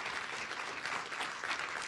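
Applause from an event audience for a panel discussion: steady, dense clapping that fills the whole short stretch, with no voices over it.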